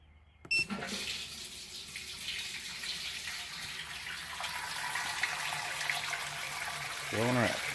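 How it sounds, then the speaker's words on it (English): Sparge water for a Munich Helles brew pours steadily into a brewing kettle, a hissing rush that begins abruptly after a click and keeps running at a moderate level, growing slightly fuller toward the end. "now we need to get the sparge water into the other kettle"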